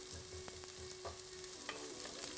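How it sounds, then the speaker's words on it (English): Onions fry in oil in a pot for Kenyan-style chicken pilau, giving a soft, steady sizzle with a few light stirring taps, faint and close, with no voices. "we need to cook the onions until they're soft"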